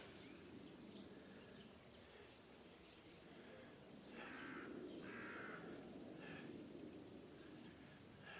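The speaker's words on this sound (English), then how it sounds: "the crows in the distance again" Crows caw in a few spaced, distant calls across a quiet, chilly outdoor setting in Iceland, carried over a faint steady background hiss.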